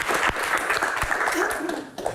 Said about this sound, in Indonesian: Tepuk tangan, silakan duduk Pak